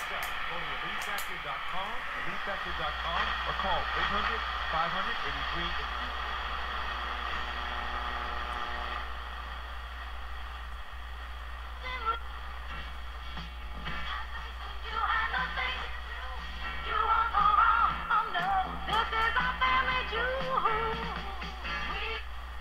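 A 1940 Stewart Warner Model 13 5U2 tube radio, freshly recapped, tuned to a weak station, giving a steady broadcast with hiss and a constant low hum throughout, fairly loud and continuous.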